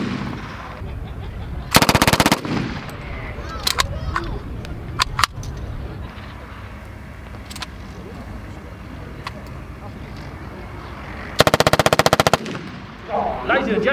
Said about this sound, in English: do believe this is a machine gun. Submachine gun.